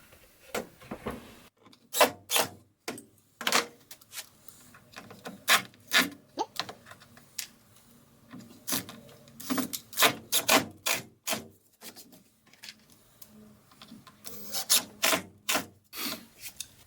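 A screw is driven into a plywood crosscut sled for a table saw, giving repeated sharp scraping, rasping bursts in irregular rhythm with short pauses, close and fairly loud with no talking.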